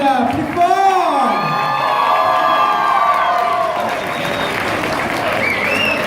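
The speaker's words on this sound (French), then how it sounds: "veuillez applaudir les participants" An audience at a cosplay contest awards ceremony claps and cheers for contestants, loud and sustained, with whoops and an amplified voice speaking over the crowd.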